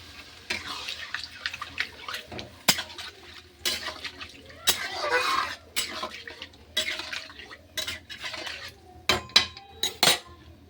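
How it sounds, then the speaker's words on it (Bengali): Water poured into a pan of cauliflower curry gives a splashing gush in the middle, surrounded by clinks and clatter of utensils and pans at moderate loudness. "এবার আমি জল দিয়ে দেবো"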